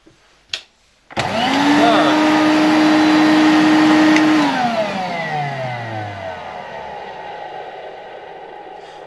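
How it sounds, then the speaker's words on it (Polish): A circa-1977 Electrolux Z325 vacuum cleaner with its dust bag fitted starts abruptly, runs with a loud steady motor whine for about three seconds, then is switched off and winds down slowly to silence. "Prawdopodobnie bez worka ten odkurzacz nie ruszy."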